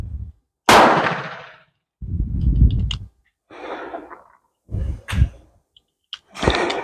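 Shots from a Crvena Zastava M70 7.65mm pistol, four or so sharp reports spaced a second or two apart, close and loud, with breathy noise between them.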